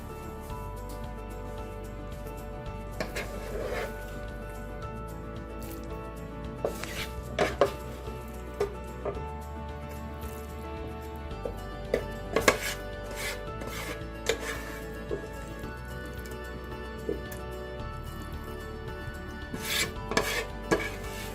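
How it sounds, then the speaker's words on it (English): A spoon scraping the sides and bottom of a pan of dry red chilli beef masala with red potatoes, repeated rough scrapes and sharp knocks against the pan over a low steady background, close up. "Just scrape the sides and the bottom of the pan"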